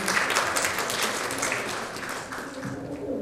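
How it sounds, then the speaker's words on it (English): Audience applause closing a session at the 11th ICE SEAM 2025 conference, a dense steady wash of many hands clapping that holds fairly even for three seconds, slightly fading toward the end. "And a round of applause to everybody who joined."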